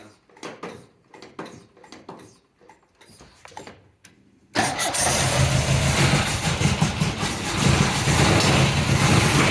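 A cold MGB engine cranks in short uneven bursts, then catches and settles into a loud, steady running roar, close by with no talk over it.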